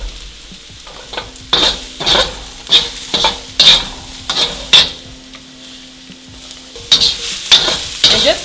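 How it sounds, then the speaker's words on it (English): Mushrooms and vegetables stir-fry in a hot pan for lo mein, with steady sizzling broken by repeated scraping, tossing strokes of a utensil in an uneven rhythm, close and fairly loud. "I really just want to fry my vegetables."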